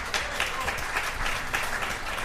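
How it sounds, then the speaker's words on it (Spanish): Studio audience applause greets a guest on a Valencia afternoon radio programme, a steady, moderately loud burst of clapping filling the short moment without speech. "Javier Bernabéu, un aplauso para él,"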